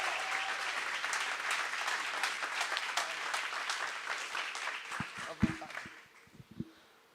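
Church audience applauding in a full burst of clapping that thins out toward the end, leaving a few scattered claps and low thumps as it fades.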